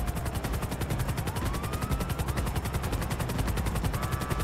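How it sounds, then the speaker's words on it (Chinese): Police helicopter in the video game GTA Online, a steady rapid rotor chop with engine whine running continuously and loud throughout, with no talk. "其实警察直升机几好揸嘅，可惜佢冇得买"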